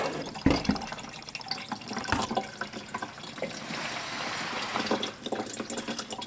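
Coolant pours from the opened drain plug of a Ford F-150 radiator in a steady splashing stream, close and fairly loud, with a few clunks at the start and no speech.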